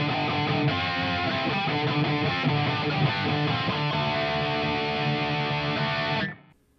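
Electric guitar through a Fender Tone Master Pro on its 5150 amp model with the Unchained Ed preset at mid gain, crunchy and sustained chords playing loud and steady, then cutting off abruptly near the end.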